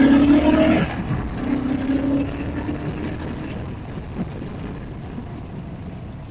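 A BSA Scrambler 650 single-cylinder motorcycle pulls away hard, its engine note rising briefly and then fading into a steady rushing drone of wind and road noise as it rides on.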